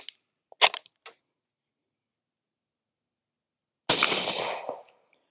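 A BC-15 bolt-action rifle in 300 Blackout with a 7.5-inch barrel fires a single loud, sharp shot outdoors at about 25 yards, with a quick decaying echo after a few faint mechanical clicks.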